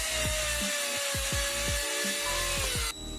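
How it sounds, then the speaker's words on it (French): Two screws driven into a potato cannon combustion chamber with a power screwdriver, a steady motor whine with rhythmic grinding pulses that stops abruptly at the end. "vous allez mettre 2 vis à angle droit et les visser jusqu'à l'intérieur"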